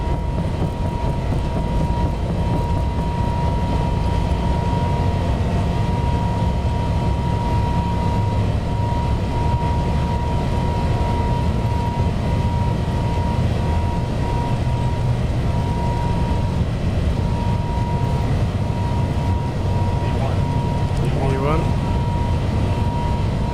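A Boeing 777-200F freighter in X-Plane 11 rolls down the runway on its takeoff roll, a steady loud engine roar with rumble and a sustained tonal whine throughout, with no speech over it.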